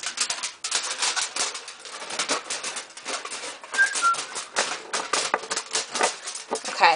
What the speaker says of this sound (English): So what you're going to do is just get your tin foil and cut it.